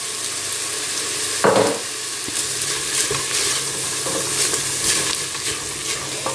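Salted soy sauce hitting a hot pot to deglaze it for Cantonese fried rice, giving a steady sizzle with scraping stirring and a few soft knocks, close and fairly loud, no talking.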